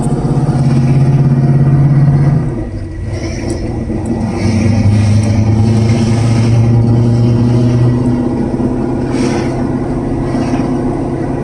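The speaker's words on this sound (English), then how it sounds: "Sounds good with the fuel pump too, and it doesn't sound like it's working too hard." A 1979 Camaro engine idles steadily with its fuel pump running, a loud, close, even mechanical drone whose pitch drops slightly partway through and then holds.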